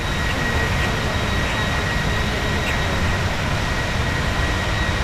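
Twin jet engines of a PMDG Boeing 737-800 in Microsoft Flight Simulator 2024 hold a steady, broadband roar with a faint high whine, continuous and even throughout as the airliner levels off in cruise.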